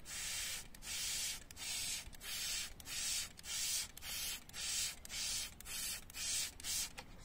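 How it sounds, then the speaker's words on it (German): Small spray bottle misting water onto a freshly repotted fig plant, about ten short hissing sprays in a regular rhythm, close and clear with quiet gaps between. "Mit unserer kleinen Sprühflasche. Da reichen 15 Sprüher."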